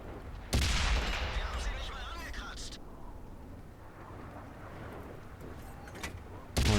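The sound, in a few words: tank cannon shot in World of Tanks video game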